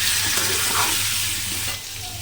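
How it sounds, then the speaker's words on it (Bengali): Potato pieces frying in oil with turmeric and salt, a continuous close sizzle with stirring that eases slightly toward the end, no talking. "আর এখানে আলু ভাজা হচ্ছে"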